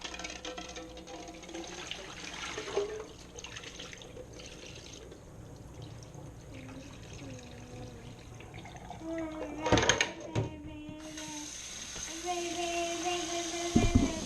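Cold running water pours steadily from a tap into a sink nearby, with clattering handling noises and a brief louder splash partway through.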